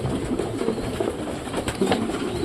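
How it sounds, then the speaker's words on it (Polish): Young pigeons squeak and coo in a loft alongside older birds, a soft, near cluster of overlapping murmuring calls running continuously. "Jeszcze piszczą młodziaki."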